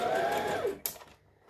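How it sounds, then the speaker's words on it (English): A sewing machine stitches binding down on a Simplicity 1801 garment, running in a loud steady burst for most of the moment, then stopping abruptly with a clunk and a few faint handling sounds. "And now I'm just going to stitch the binding down."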